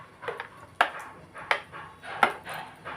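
Peanut chutney is stirred after the tempering is poured in, with three sharp, evenly spaced clinks of a utensil against the vessel over softer scraping, close and without talk.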